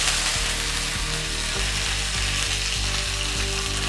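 Cumin, dried red chillies and curry leaves frying in hot oil for a pumpkin and cowpea erisseri, giving a loud, steady sizzle with faint regular clicks beneath it.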